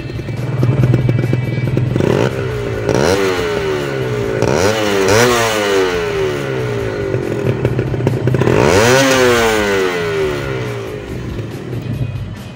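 A 2013 Kawasaki Ninja SS two-stroke engine revs hard up close, several rising and falling throttle blips over a rattly buzzing idle.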